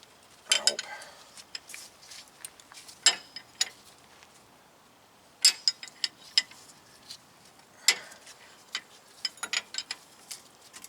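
Metallic ratcheting clicks come in short bursts as a wrench works on a brake bracket bolt of a 2004 Sierra 2500 truck, with sparse clanks between and no clear talk.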